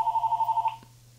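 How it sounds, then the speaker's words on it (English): A phone rings with a rapid warbling electronic trill of about eight pulses, clear and close, then cuts off into quiet room tone. "My phone's ringing, bud."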